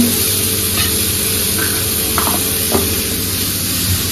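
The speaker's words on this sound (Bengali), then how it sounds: "আমি তরকারিটা করছি" A curry is stir-fried in a pan, giving a loud, steady sizzling hiss close up, with a few faint scrapes and clinks of stirring and no talking.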